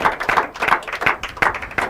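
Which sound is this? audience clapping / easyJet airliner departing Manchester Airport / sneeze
audience clapping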